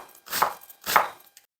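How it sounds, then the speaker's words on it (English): A knife cuts through half a large white onion on a cutting board, two crisp, close chopping strokes in slow succession with a faint tap after. "I'm starting off by cutting half a large white onion."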